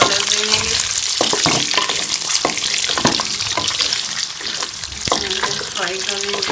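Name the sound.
potatoes frying in ghee for Kashmiri dum aloo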